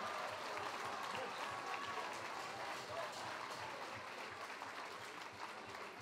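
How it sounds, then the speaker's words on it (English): Crowd at a UKFC 24 fight event applauds two young fighters before the decision: dense, sustained clapping and crowd noise fill the space steadily, with voices mixed in. "please give a round of applause to these two young fighters"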